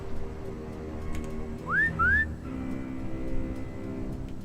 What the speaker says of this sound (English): All I have is my whistle.